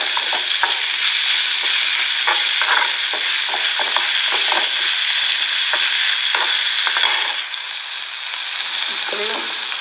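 Mixed vegetables frying in a pan for vegetable upma, an intense, close sizzle punctuated by frequent rhythmic spatula scrapes and knocks against the pan.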